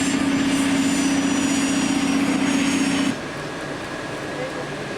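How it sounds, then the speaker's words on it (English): A small jet aircraft waits for takeoff at a Las Vegas air terminal, its engine giving a steady loud whine and drone that drops off suddenly partway through, leaving a quieter hum. "Nice little jet there, getting ready for takeoff."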